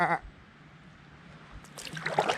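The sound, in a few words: sheep bleating near river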